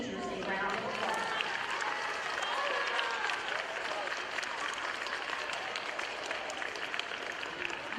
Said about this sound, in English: I think you need to give your teachers a round of applause.